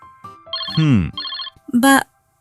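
A phone ringtone chimes in short melodic bursts, loud and close, with a person's voice breaking in between the rings.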